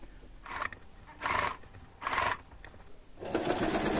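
A sewing machine stitches over gathering stitches while upcycling a camisole, running in four short bursts with pauses between, the last burst longest.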